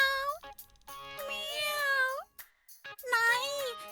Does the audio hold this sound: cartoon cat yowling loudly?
yes